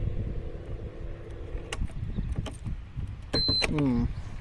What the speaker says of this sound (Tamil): ஒரு இண்டிகேஷன் சவுண்டு வருது கீயிங் அப்படின்னு